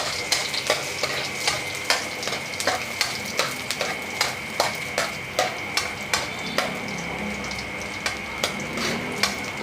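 Garlic sautés in a hot pan, sizzling steadily with a regular rhythm of sharp spatula taps and scrapes against the pan, close and loud.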